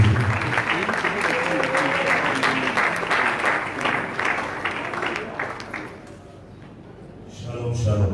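A church congregation at a night vigil applauds loudly in dense, sustained clapping with some voices, fading toward the end before rising again briefly.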